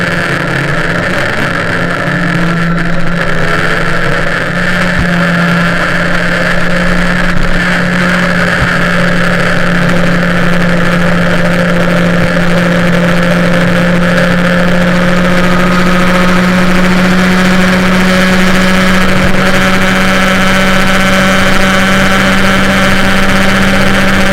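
An MBK 51 moped with an MVT cylinder and Black Gun exhaust runs at high speed, its engine a loud sustained drone with a steady high whine that shifts pitch slightly, close and continuous with no talk.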